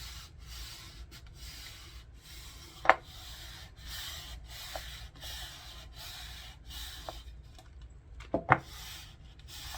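A hand rubs back and forth over a template laid on a tumbler, giving a quiet, steady dry scuffing, with a couple of sharper brief scrapes standing out.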